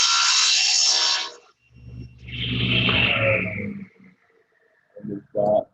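Hand-sawing 45-degree miter cuts in wood for a picture frame: a steady rasping saw stroke runs for over a second, followed by a longer rougher burst of cutting and a few short scrapes near the end, close and fairly loud.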